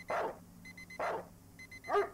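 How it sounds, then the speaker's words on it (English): Dog barking in a video game, three short sharp barks at a steady interval, fairly clear and alone, with faint electronic beeps between them. "Oh look, it's my dog."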